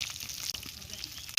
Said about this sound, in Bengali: মাছ ভাজার বাইনে তেল গরম হয়ে গেছে, মাছটা দিয়ে দিলাম